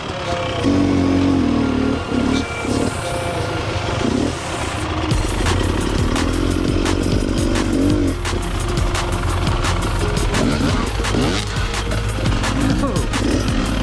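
An enduro dirt bike rides off-road in second gear with heavy clutch slipping on slippery ground. The engine drones loud and close throughout, with uneven revving surges and clattering bumps.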